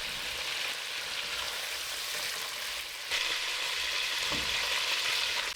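Onions frying over high heat in oil left from browning sausages for a Réunion sausage rougail, a steady, dense sizzle that stays loud and even throughout, with a brief swell partway through.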